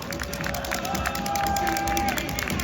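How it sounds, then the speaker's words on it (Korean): A football crowd at an FC Anyang home match claps and cheers for the players in a steady, dense roar that fills the stadium without letup. "우리 선수들에게 여러분의 박수를 부탁드립니다"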